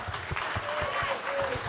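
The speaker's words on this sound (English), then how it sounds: "Connor, how about a nice round of applause" Audience at a health equity celebration giving a round of applause, a steady patter of many hands clapping throughout, moderately close, with some voices over it.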